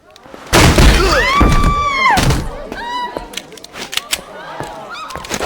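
In the video game Saints Row 2, several sharp gunshots bang out loudly in a courtroom scene. The shots come in an irregular burst, mixed with raised, shouting voices throughout.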